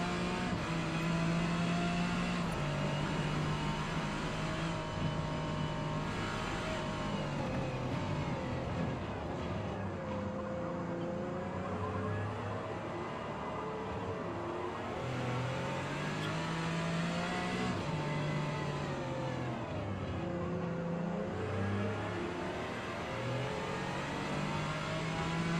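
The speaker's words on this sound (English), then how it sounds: "I can hear a noisy car up ahead." A car engine revs and shifts through gears in the racing game Gran Turismo 7, a loud, continuous mid-pitched drone that rises and falls repeatedly with acceleration over about twenty-five seconds, with no talking.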